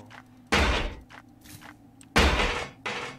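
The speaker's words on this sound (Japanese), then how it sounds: "上側に扉を開ける音が聞こえてますね" Doors in the Horrorfield horror game heard from nearby, two sharp heavy bangs and rattling thuds with short scraping between them, loud against a quiet background.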